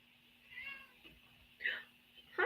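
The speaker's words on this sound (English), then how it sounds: "The cat's even meowing." A pet cat named Sunny meows a few times indoors, short rising calls spaced across a couple of seconds with the loudest near the end, faint against a quiet room and a low steady hum.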